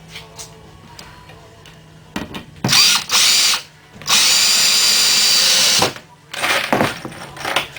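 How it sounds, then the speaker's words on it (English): A power drill drives screws into a ready-to-assemble wooden Adirondack chair, whirring loudly in several short, close bursts separated by brief pauses. "Then we put the rest of our screws in."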